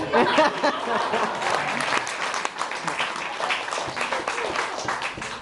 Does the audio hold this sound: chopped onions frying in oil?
no